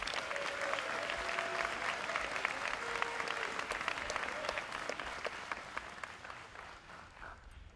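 A large audience at a college opening convocation applauds steadily for several seconds to welcome a speaker, a dense wash of clapping that slowly thins out toward the end.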